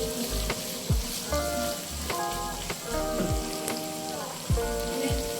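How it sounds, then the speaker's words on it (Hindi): Egg keema curry sizzling and frying in a pan, a steady crackling sizzle with repeated scraping stirs and occasional utensil clinks, close and alone without talk. "इसको 3 से 4 मिनट के लिए भून लेते हैं"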